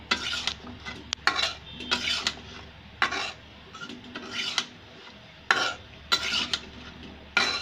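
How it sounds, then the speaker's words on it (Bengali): Vegetables cooking in a pan are stirred with a spatula in bursts of loud, close scraping and rasping strokes over a faint sizzle, with brief pauses between rounds of stirring. "তো নাড়াচাড়া করে নিচ্ছি।"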